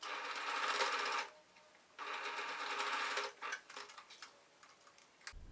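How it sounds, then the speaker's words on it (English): A sewing machine runs a straight stitch along the shoulder seams of lining fabric for a beginner's trapeze dress, with two sustained bursts of rapid, steady needle chatter separated by a short pause, then lighter intermittent ticking. "I just sewed with the straight stitch along them."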